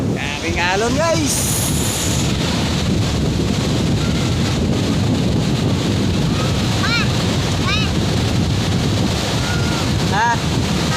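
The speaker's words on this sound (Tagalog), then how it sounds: "Grabing alon guys." Heavy surf and strong wind rumble continuously from big ocean waves, loud and close, with crashing water noise and a few faint voices under it.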